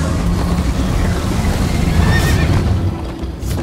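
A horse neighs in the video game Minecraft: Story Mode during a chase, a loud whinny rising over a rushing, wind-like game background with no speech.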